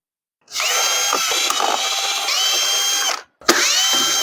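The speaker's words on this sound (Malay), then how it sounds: "Kemudian kita buka semua skru cover dekat bahagian belakang ni." A power drill backs out the screws on the rear cover of an electric fan. It whines loudly and steadily for several seconds, stops briefly, then starts again close by, with no talking.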